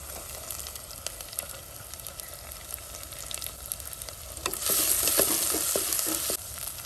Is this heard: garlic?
yes